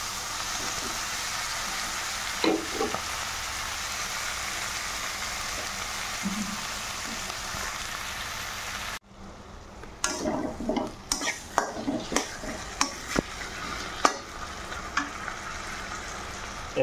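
Frying in a pan for a dish of sweet pumpkin stalks with dried chepa (shidol) fish, first a steady sizzle, then quieter with a run of sharp scraping stir strokes and clatters.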